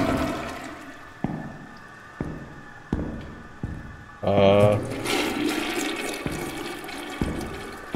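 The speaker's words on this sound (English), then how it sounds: "I'm just flushing all the toilets." A toilet flushes in the video game Toilet Rooms, starting as a loud gurgling rush of water and settling into refilling water, with a few sharp thuds beforehand and a voice talking throughout.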